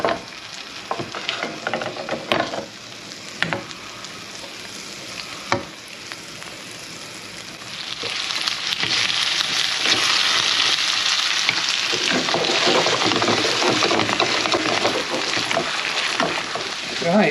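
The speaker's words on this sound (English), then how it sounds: "I've just got these sliced potatoes frying away in some butter" Sliced potatoes, onion and mushroom fry in butter in a pan, a steady sizzle with occasional clinks and stirring scrapes that grows louder and fuller partway through.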